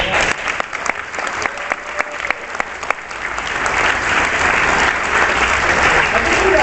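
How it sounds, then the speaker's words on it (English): Audience applause at a DragonCon podcast panel: scattered individual claps at first that swell into full, continuous clapping from the crowd, holding loud to the end. "Give yourselves a round of applause"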